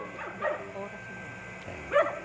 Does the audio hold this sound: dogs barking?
yes